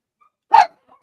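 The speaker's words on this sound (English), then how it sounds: "That's my dog yelling at you" A single sharp bark from a dog rings out close by in an otherwise quiet room, brief and loud.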